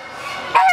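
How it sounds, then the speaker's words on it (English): A brown African goose of the heavy goose class gives a short loud honk, near and alone. "this is an African goose."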